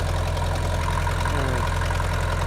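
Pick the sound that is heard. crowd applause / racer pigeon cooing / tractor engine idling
tractor engine idling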